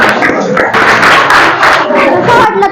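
Primary schoolchildren at a village school quiz clap loudly together in a short, close burst, with voices calling out over the clapping.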